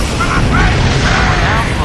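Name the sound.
photon torpedo fired in Star Trek Online video game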